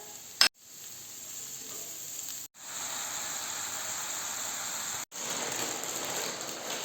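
Chopped onion, carrots and celery sizzle in a pan with a steady, crackling hiss, broken by two brief silent gaps before the frying resumes, with a short clatter at the start.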